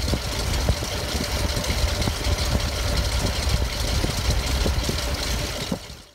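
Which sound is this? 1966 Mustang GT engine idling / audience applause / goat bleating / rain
1966 Mustang GT engine idling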